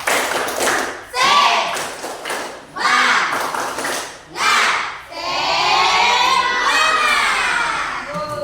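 A group of primary school children shout and clap together in bursts of a rhythmic spirit clap, then break into sustained cheering and chanting, loud and close.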